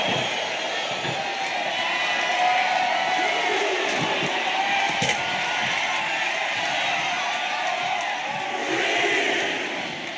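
Wrestling arena crowd in the WWE 2K26 video game during an extreme match, a steady loud roar of cheering and shouting that swells and holds throughout, with occasional sharper impacts poking through.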